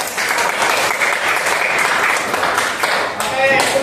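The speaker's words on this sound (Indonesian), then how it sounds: "Beri tepuk tangan buat kelompok yang" Students in a classroom give a group of classmates a loud burst of clapping that lasts throughout, dense and close, with voices mixed in toward the end.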